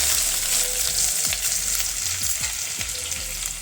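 Loud continuous sizzling of ginger and garlic frying in hot ghee, with a few scraping stirs of a spoon against the pan.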